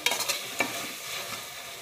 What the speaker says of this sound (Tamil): வெங்காயம் வந்து நல்லா வதங்கணும், செவக்கணும்.